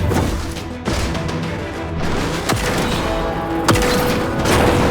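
Sustained gunfire and heavy impacts from the mech combat game Phantom Brigade, with sharp cracks and booms scattered over a dense, loud battle backdrop, no speech.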